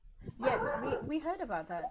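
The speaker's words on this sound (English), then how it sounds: "I apologize for the dog barking" A dog barks and yips a few times close by, overlapping with a person talking indoors.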